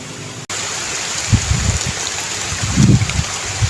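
Steady rain falling during a fishing trip, a constant hiss of drops throughout, with a few low, muffled knocks and thumps rising through it near the middle and end.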